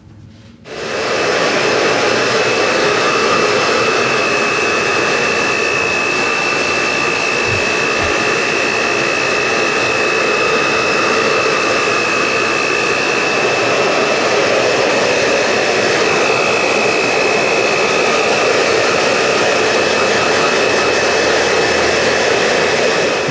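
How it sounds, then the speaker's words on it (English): A blow dryer runs continuously for over twenty seconds, drying freshly wetted hair during a haircut, with a loud, steady rushing hiss and a constant thin whine and no talking. "I'm just gonna wet it and kind of set it back here with a blow dryer"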